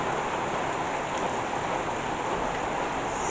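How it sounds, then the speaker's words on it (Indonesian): Very heavy rain pours onto trees just outside a house, a dense, loud and unbroken hiss that fills every moment with no gaps. "Saat ini pepohonan yang ada tepat di depan rumah diguyur hujan yang sangat lebat"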